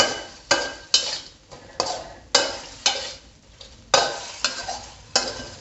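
Shrimp stir-fried in a pan with shrimp paste and stink beans, with repeated sharp scrapes of a spatula at an uneven rhythm over a steady sizzle. Close and fairly loud, with no talk.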